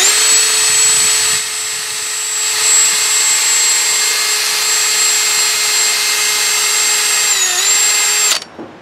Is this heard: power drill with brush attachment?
yes